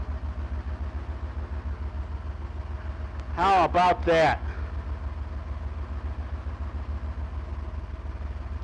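A 1985 Porsche 928 engine idles steadily after starting, a close, even low rumble throughout, with a person speaking briefly over it partway through.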